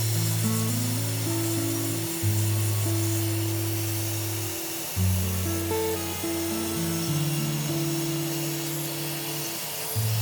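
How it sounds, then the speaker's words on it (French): Powered sanding of a wooden box, working up from 120 to 400 grit, gives a steady loud droning whir with shifting tonal hum levels, running continuously for about ten seconds without talk. "Un ponçage du grain 120 au grain 400."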